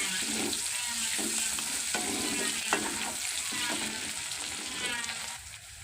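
Garlic and onions frying in hot oil in a pan for a kabuli chana breakfast dish: a loud, continuous sizzle with repeated stirring scrapes, heard close and without talk.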